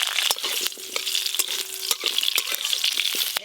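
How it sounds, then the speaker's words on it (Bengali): Black mustard seeds tempering in hot mustard oil in a kadai, a steady close crackling sizzle with sharp pops scattered throughout and a faint tonal hum partway. "আজকে টক রান্নাতে কালো সর্ষে ফোড়নে দেব।"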